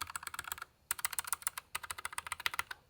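Rapid clicky keystrokes from a mechanical keyboard with blue or red switches, typed in quick bursts with a brief pause, close and crisp with no talking.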